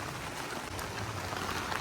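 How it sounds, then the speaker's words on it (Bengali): Steady rain falls during flooding in Vrindavan after heavy rainfall, a dense, even hiss of drops that stays constant and fairly close, with no talking. "দেখুন ধীরে ধীরে জলের স্রোত বেড়ে যাচ্ছে আর বৃষ্টি হয়ে যাচ্ছে"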